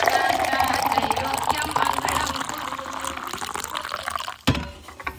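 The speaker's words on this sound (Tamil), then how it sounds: "ஏற்கனவே சுடுதண்ணி ஊத்திட்டேன், பாத்து கை சுற்ற போகுது." Hot water being poured for a bath, a loud continuous splashing stream into a bucket or basin that stops near the end with a clunk, while a person speaks.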